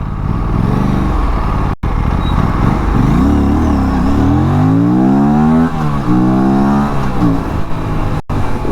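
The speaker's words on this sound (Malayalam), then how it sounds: "ഇതിൻ്റെ ഒരു ആക്സലറേഷൻ ജസ്റ്റ് ഒന്ന് കാണിച്ചു തരാം ഞാൻ" An Aprilia RS 457 motorcycle accelerates hard on a test ride, its engine note climbing through rising revs with gear changes, loud and close with no speech.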